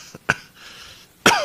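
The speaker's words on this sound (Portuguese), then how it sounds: "Ela tem uma tossinha chata de sarar, viu?" A woman with a lingering cough gives two short, dry coughs about a second apart, fairly close and clear over a quiet room.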